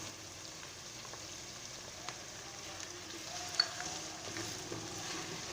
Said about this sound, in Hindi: जब तक मटन फ्राई हो रहा है